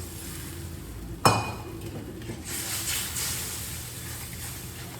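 Masoor dal with pointed gourd is stirred in a pan: one sharp metallic clink from the spoon against the pan, then a soft, steady scraping and swishing that continues at moderate volume with no talk.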